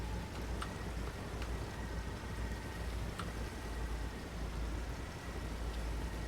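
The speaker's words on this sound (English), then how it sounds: "that's not really what outboard motors sound like" An outboard motor in the boat-rescue game Stormworks gives a steady, low engine drone under a constant rain-like hiss, with no one talking.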